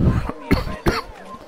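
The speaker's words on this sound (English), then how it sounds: "Pardon me while I cough and hack" Several short, harsh coughs and throat hacks from one person, close and fairly loud, in three main bursts with brief gaps, during a break from playing Assassin's Creed.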